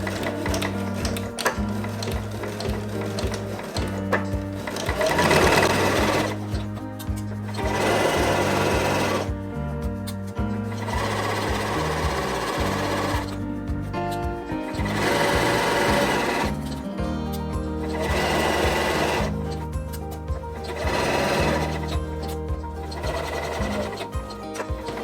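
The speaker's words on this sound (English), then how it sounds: "let's sew at 1 centimetre seam allowance" Sewing machine stitching a curved seam on a baker boy cap at a one-centimetre seam allowance, several steady motor bursts of fast running stitches separated by short pauses, close and loud with no talking.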